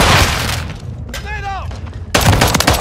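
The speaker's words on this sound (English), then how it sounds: "Grenade!" Call of Duty battlefield combat: bursts of rapid gunfire, a sudden grenade-like blast near the end, and loud, close chaotic firing around it.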